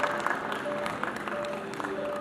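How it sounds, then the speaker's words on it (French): Applause from an audience at a university gown-presentation ceremony, a steady burst of clapping throughout with some louder individual claps standing out. "Applaudissements pour le major des majors, le général des généraux."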